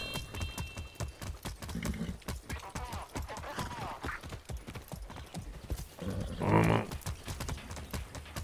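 Horse hooves clip-clop steadily in the video game Far Cry 6, a rhythmic, quick trotting beat with a loud whinny partway through, while someone talks over it.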